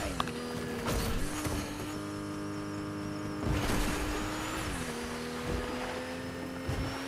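A car in a video game drives steadily, its engine drone holding a constant pitch and briefly shifting up and down as it changes speed, with faint background hum throughout.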